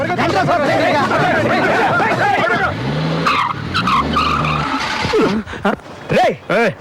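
Car in a Telugu comedy film scene shaking and rumbling as if in an earthquake, a loud continuous rumble with screeching, skidding tones under excited overlapping talk, breaking into choppy bursts toward the end.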